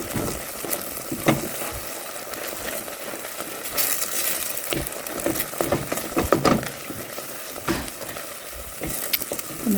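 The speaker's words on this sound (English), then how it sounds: "in goes the flour. Stir it around. It's going to make a roux" Flour stirred into fat in a hot pan to start a roux for a leftover turkey dish, with a steady close sizzle and scraping spoon strokes running throughout and no voices.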